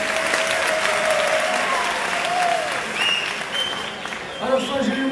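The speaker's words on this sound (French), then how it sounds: "On peut applaudir, mesdames et messieurs" Audience applause at a stage performance during a Nuit des Idées evening, steady dense clapping for several seconds with voices and a few cheers rising over it near the end.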